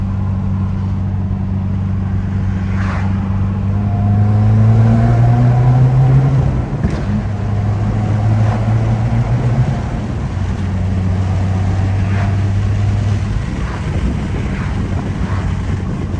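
A Subaru WRX with a manual gearbox driven through a tunnel, with a loud, steady engine drone rising and falling through revs under heavy wind and road rush.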